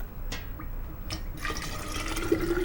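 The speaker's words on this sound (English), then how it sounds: "very carefully, we're going to pour in our sweet tea." Sweet tea is poured carefully into a jar, giving a soft, steady liquid trickle and splash with a couple of faint knocks, fairly quiet and with no talking.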